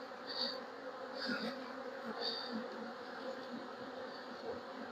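Honeybees swarm and buzz around an opened hive during an inspection, a dense, continuous drone close by, with a few louder buzzing passes as individual bees fly near.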